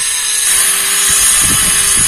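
A power saw cuts through tiles with a high, steady whine, while lower grinding bursts come and go as the blade bites in, loud and close with no talking.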